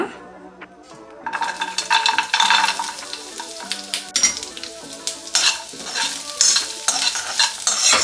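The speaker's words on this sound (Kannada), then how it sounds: "ಇದನ್ನು ಕೂಡ ಲೈಟಾಗಿ ಹುರ್ಕೋಬೇಕು. ತುಪ್ಪದಲ್ಲೇ ಹುರ್ಕೋಬೇಕು." Grated coconut roasts in ghee for jackfruit seed laddu while a utensil scrapes and stirs it, giving loud, busy sizzling broken by frequent metallic clinks against the pan.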